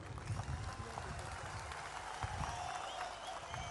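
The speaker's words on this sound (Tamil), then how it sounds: "இவங்களுக்கு ஒரு கொஞ்சம் கைத்தட்டல் கொடுங்க." Large crowd at an outdoor political conference applauds local organisers, faint diffuse clapping spread across a wide space with low rumbling crowd noise beneath.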